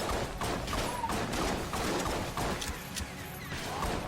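A Kiln gun firing rapidly in the roguelike shooter Enter the Gungeon, a steady stream of quick repeated shots and impacts that runs for several seconds with small crashes mixed in.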